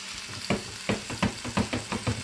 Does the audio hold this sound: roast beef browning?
yes